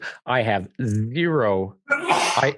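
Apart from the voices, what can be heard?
sneeze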